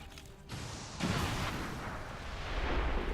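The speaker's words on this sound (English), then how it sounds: "Firing rocket." A rocket fired in XCOM 2 lets out a loud, broad whoosh and blast that swells at about the one-second mark, then a sustained roar that builds toward the end.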